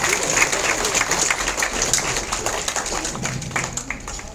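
A crowd at a Red Cross gathering applauds Vimal Khandelwal, loud continuous clapping from many hands, close and dense, gradually thinning toward the end, with a few voices faintly mixed in.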